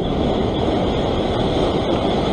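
Ocean waves surge against a rock pool ledge at Maroubra, Sydney, during early-morning rock fishing, a steady loud broadband wash of surf with no break and no voices.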